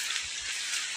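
Rain falls steadily in a forest, a dense even hiss of drops on leaves and ground with no distinct individual strikes, continuous and moderately loud.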